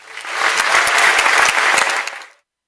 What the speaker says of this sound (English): Now let us give him another round of virtual applause.